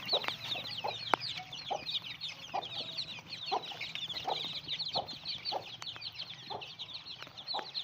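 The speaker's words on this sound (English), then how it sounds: "Little chicks with her mom." A hen clucks repeatedly with little chicks during rainfall, soft rhythmic clucks and faint peeping over a steady patter of rain in a backyard.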